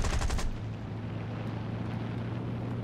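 A short burst of rapid aircraft cannon fire at the start in War Thunder, a Battle of Britain air battle, then a low droning aircraft engine hum continues steadily.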